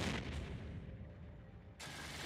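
Ship guns fire in a space battle in the video game Eve Online. Dense, rumbling booms merge into a continuous wash of gunfire that briefly thins before swelling again.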